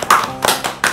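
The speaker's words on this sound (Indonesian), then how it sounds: "Ya benar, tepuk tangan untuk Maya." Classroom students give a short burst of hand claps for a classmate, three quick, sharp claps close by within about a second.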